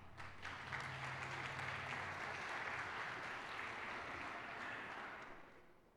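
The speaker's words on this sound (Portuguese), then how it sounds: "Palmas." Congregation at a church theological conference breaks into a long, even round of applause. The clapping swells within the first second, holds steady and dense, then fades away near the end.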